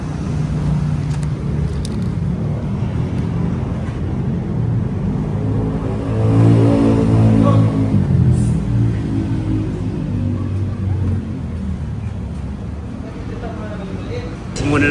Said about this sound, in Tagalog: Ayan ang compressor.